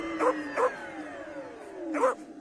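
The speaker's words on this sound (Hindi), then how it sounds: "वो तेजी से रिक्शा भगा कर ले जा रहा था और उसके पीछे कुत्ते पड़ जाते हैं।" Dogs chasing a rickshaw bark in three sharp yaps over a droning engine or motor hum whose pitch slowly falls.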